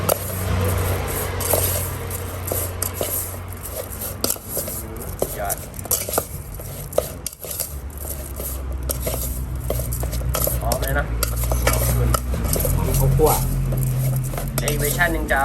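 Larb stir-fried in a pan with utensils scraping and clattering against the metal in an irregular rhythm, close by, while people talk over it throughout.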